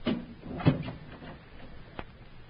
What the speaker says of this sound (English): Close the door, Ali